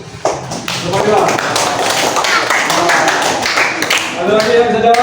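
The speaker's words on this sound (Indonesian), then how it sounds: "Kita tepuk tangan dulu." A fourth-grade Islamic studies class claps together in a dense, sustained burst lasting several seconds, fairly loud and close, and a teacher's voice rises again as the applause fades.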